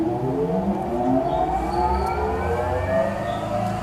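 Clicker press machine starting up and running, a steady close motor drone with rising and gliding tonal whine over a low hum, fairly loud and continuous.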